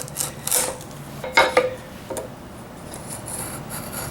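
A Japanese trowel chisel (kote nomi) scrapes and pares hard Osage orange wood in a few short, close rasping strokes, with a quieter stretch between cuts.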